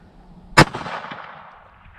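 A single sharp report from a Sig Sauer P365 pistol in .380, fired outdoors with reloaded ammunition in a round that then failed to eject, standing out near and loud against a quiet background and trailing off into a brief echoing decay.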